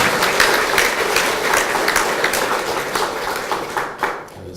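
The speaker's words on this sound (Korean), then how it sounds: "다 같이 박수로 축하드립니다" Congregation applauding at a church service installing a senior pastor, lively close clapping with distinct individual claps that tapers off near the end.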